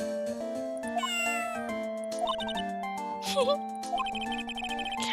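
A cat meows in Phoenix Wright: Ace Attorney, a few short mewing calls rising over looping game music with chimes, fairly close and clear.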